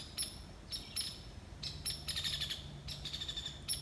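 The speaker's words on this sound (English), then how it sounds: "Something really disturbing them birds." Birds in the woods give repeated short, high chirps and tweets in quick bursts, fairly faint against a quiet background.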